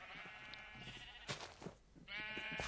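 Minecraft sheep bleat close by in two wavering calls, one at the start and one at the end, with a burst of soft scuffing game noise between them and no talking.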